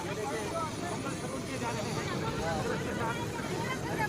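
A helicopter drones loudly and continuously at a village landing site in Nagaur, a steady rotor and engine roar filling the whole span with crowd noise blended in.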